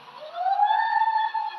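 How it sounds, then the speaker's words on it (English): A police siren sound effect rises in pitch and holds a steady wail, loud and clear on its own for a short burst. "Just like that, literally like a siren."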